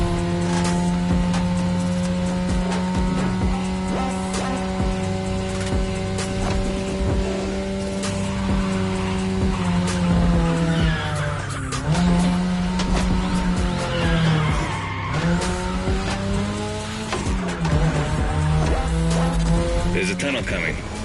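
A 2002 third-generation Mazda RX-7 with a rotary engine races in The Crew Motorfest, its buzzing engine note sustained loudly, dipping and climbing with gear changes and throttle, with brief tire squeals.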